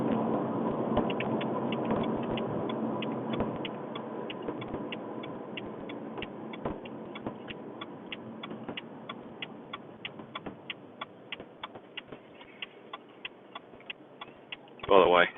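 Turn indicator on a BMW Alpina D3 BiTurbo with the 2.0-litre N47 diesel ticks steadily inside the cabin. The clicks sit over engine and road noise, with a brief louder thump near the end.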